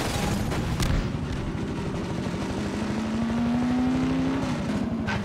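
Helicopter in the video game Half-Life 2, a loud continuous rotor roar with a rising engine whine, sustained close by throughout with no talking.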